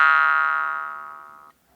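One jaw harp twang, played with the lips closed around the frame, sounds as a strong, buzzy, ringing tone held steady for about a second and a half before it stops sharply, close and clear.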